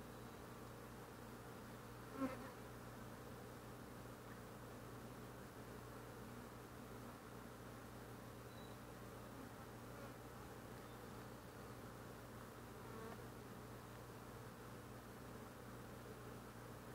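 Honeybees in a hive that has swarmed, heard during an inspection as a faint, steady, close buzzing hum that continues throughout, with one brief knock.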